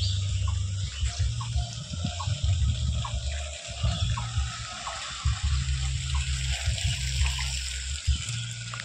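A small village river runs steadily nearby, a constant soft gushing of water with faint music playing in the background.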